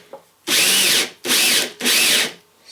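A power drill spins to twist wire ends together into one thick wire, running in three sustained bursts close by, each separated by a short pause.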